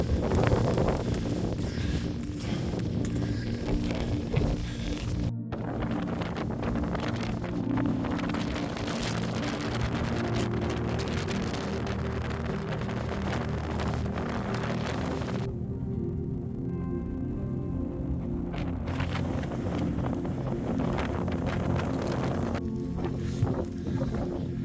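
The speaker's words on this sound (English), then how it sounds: "it's fairly windy on the top" Strong wind buffets the microphone on the exposed summit of Sheffield Pike in the Lake District, a continuous loud roar with gusty surges and a brief lull midway.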